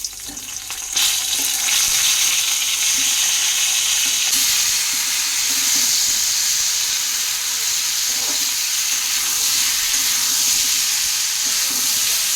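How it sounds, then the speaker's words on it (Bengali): Fish frying in a pan of hot oil, a bright continuous sizzle with crackling and spitting, steady and close throughout with no talking. "এবার এই মাছগুলো ভেজে নেব।"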